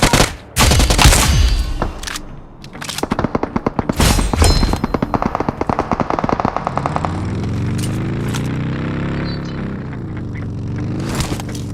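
Rapid bursts of automatic gunfire crackle through a video game shooter match, with several sharp shots early on, then a long run of evenly spaced rounds and a lower rumbling tail.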